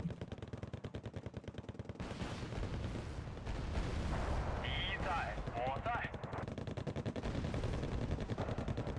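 Rapid machine-gun fire in a tank battle video game rattles in steady, close bursts, with talking and game effects over it in the middle.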